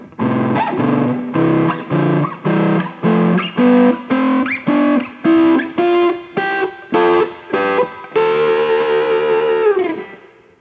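Electric guitar playing an ascending A natural minor scale in two-part harmony: about a dozen and a half evenly spaced plucked note pairs climbing steadily, ending on a long ringing chord, with no talking.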